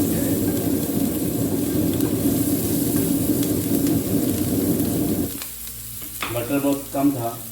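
Meat sizzles and fries in butter on a stove with a loud, dense, steady crackle that cuts off sharply near the end, followed by a few softer clinks and a brief voice.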